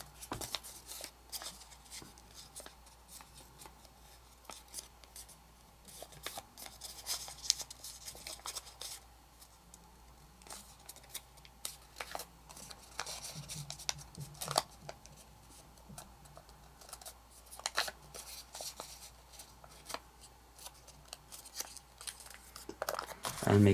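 Origami paper being folded in half, unfolded and creased for a modular origami chess board, giving close, crisp crinkling and rustling in irregular bursts throughout.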